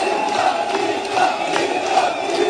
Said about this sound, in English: It's a damn huge crowd.